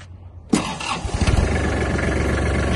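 A Kubota GL 240 mini tractor engine cranks briefly, catches and settles into a steady, loud diesel idle close by, after a short quiet lead-in.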